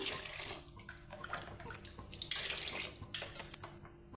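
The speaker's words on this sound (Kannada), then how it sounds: "3 ಲೋಟ ಅಕ್ಕಿಗೆ 6 ಲೋಟ ನೀರು ಸೇರಿಸ್ತಾ ಇದ್ದೀನಿ ನಾನು" Water poured from a tumbler into a pot of rice while cooking tomato bath, three cups of rice to six of water; a steady close splashing pour with a few brief pauses, no talking.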